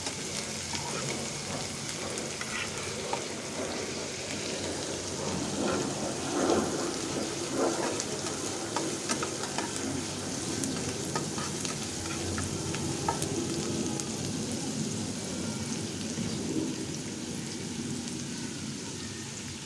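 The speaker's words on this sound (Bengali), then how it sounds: "আমি তেল দিয়ে দিলাম, পেঁয়াজ আর তেল ভেজে নিব" Onions frying in oil in a pan for a vegetable bhaji, a constant crackling sizzle heard close and fairly loud, with occasional faint clinks and no talk.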